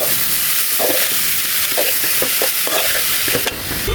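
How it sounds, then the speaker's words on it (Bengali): Khesari greens and spice paste are stirred in a hot pan, a loud steady hiss of frying with repeated scraping strokes of a spatula running throughout, close up and without any voices. "আমি মশলা মিক্স করে দেবো।"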